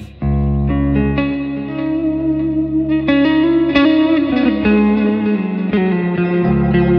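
An electric guitar through a Hughes & Kettner Black Spirit 200 amp plays sustained chords and notes drenched in a swirling modulation effect with reverb and light distortion, loud and alone.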